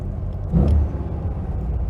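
A 1956 VW Beetle's engine, freshly swapped, runs during its first ride with an older passenger aboard, a steady low rumble from inside the car that swells briefly, then settles back to an even drone.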